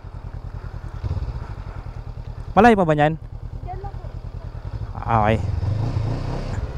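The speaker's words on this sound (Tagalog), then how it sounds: "Sakay ka doon sa isa, doon sa kulay blue na motor." Motorcycle ride in Dingalan, Aurora, with a steady, close, pulsing engine putter running throughout while people talk briefly over it.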